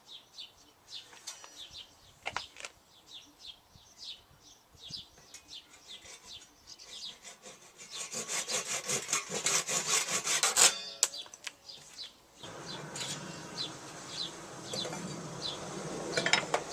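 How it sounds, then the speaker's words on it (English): Hand saw cutting off the ends of wooden gate timbers for a driveway gate, with rasping strokes building into a steady, louder run of close sawing after quieter scraping, birds chirping faintly in the background. "So I've marked all the joints out, and I just cut off the ends first."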